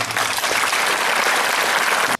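Audience applause at a Manuel Valls political rally in Audincourt, a dense, steady roar of clapping filling the whole stretch before cutting off abruptly at the end.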